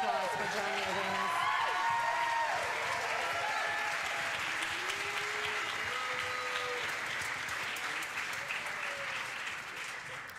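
A jazz concert audience gives a long, sustained round of applause that carries through the whole stretch. Lingering tones ring beneath the clapping, which fades slightly toward the end.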